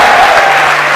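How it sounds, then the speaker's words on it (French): Audience applause for a Congolese comedian, a brief loud burst of dense clapping from a crowd at a live comedy show. "applaudissez-le."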